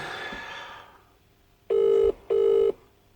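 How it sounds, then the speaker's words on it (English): Two bursts of a phone's ringback tone, each under half a second, separated by a short pause, loud and clear after a fading bit of background noise. "Oh, we're ringing."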